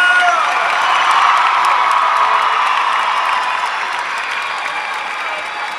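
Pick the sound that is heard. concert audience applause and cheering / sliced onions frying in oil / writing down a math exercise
concert audience applause and cheering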